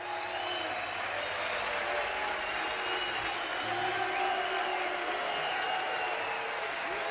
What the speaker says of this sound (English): It's like the crowd, there's some cheers, there's some boos.